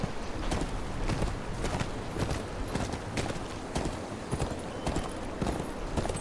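Horse hooves clip-clop at a steady walking rhythm in the Game of Thrones Kingsroad video game, a continuous near patter with no voices over it.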